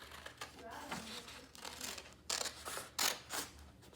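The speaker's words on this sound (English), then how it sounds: "Cutting out my hen, almost done." Scissors snip through red construction paper while cutting out a hen shape, a run of short, close, crisp clicks and rustles coming in uneven bursts.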